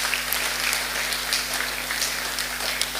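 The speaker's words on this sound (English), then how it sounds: "Please give her a clap." Steady applause from an assembly audience clapping for a staff member at a special general assembly, a continuous dense patter of hands with an electrical hum underneath, moderately loud and without speech.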